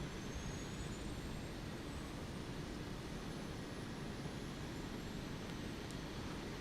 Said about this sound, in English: if I just go out of the plane, you will see all the 4 engines running